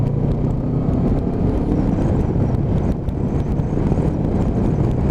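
A Loncin Voge 500DS 500cc motorcycle on the move, its engine a steady, dense rumble blended with heavy wind buffeting at the microphone, continuous and close, with no talk.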